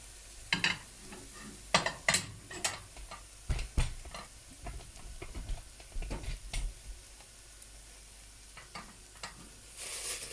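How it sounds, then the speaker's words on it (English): Potato gnocchi dough pieces sizzle softly in a dry pan over low heat, with repeated stirring scrapes and clicks against the pan. "Hear that? That sizzling sound."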